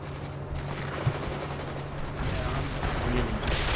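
Rifle and machine gun fire in the video game World in Conflict, a dense continuous clatter of rapid gunshots under a steady rumble of battle, staying loud and sustained throughout.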